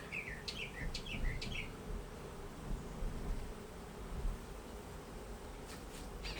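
Honeybees in an open hive give a faint, continuous low hum, with a few bird chirps coming through early on and no talk.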